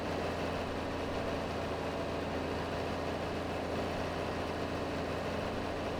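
A tractor mower engine in Farming Simulator 22 drones at a steady, even pitch throughout, a constant low mechanical hum with no breaks or changes in load.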